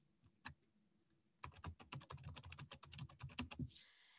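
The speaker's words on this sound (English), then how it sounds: "So I'll type in conferencing." Typing on a QBraille XL braille keyboard: one isolated keypress, then a rapid burst of close, crisp clicks, ending with a brief softer rustle.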